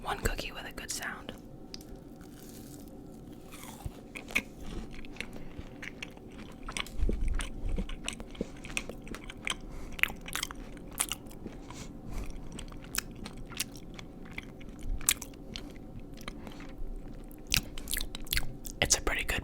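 Close, crisp crunching from biting and chewing a peanut butter cookie, repeated irregular crackles with soft whispery mouth sounds in between.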